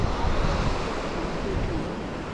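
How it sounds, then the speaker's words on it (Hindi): Water from a mountain lake near Sheshnag on the Chandanwari trek in Pahalgam rushes steadily outward, giving a loud, dense, continuous roar close by, with wind mixed in. "झील से निकला हुआ पानी।"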